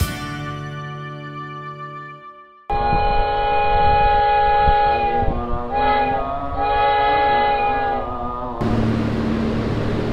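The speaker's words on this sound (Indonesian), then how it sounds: "Rangkaian kereta api Gumarang sedang dilansir di jalur 2." The Gumarang passenger train at Surabaya Pasar Turi station sounds a long, loud multi-tone horn that carries on over the rumble of rolling wagons, ending in a wash of broad mechanical noise.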